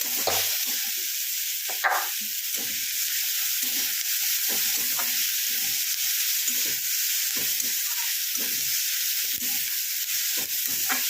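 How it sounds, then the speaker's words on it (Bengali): Potato sandwich filling fries over high heat in a pan with a constant bright sizzle, while a spatula stirs and scrapes it in regular, repeated strokes close by. "এইরকম ভাবে নাড়িয়ে চালিয়ে একটু ভালো করে ভেজে নিচ্ছি।"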